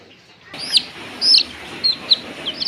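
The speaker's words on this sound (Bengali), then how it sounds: "এইগুলো ব্রয়লার মুরগির বাচ্চা।" Young broiler chicken chicks kept at home give several sharp, high peeping chirps in irregular bursts, close and fairly loud over a quiet background.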